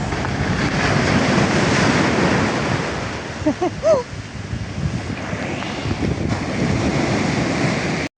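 Loud, continuous roar of heavy surf crashing close by, with wind buffeting the microphone and a brief voice partway through.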